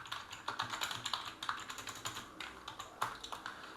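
Fingers typing on a computer keyboard while coding a JavaScript game, quick clustered key taps in uneven bursts, close and fairly quiet, with no voices.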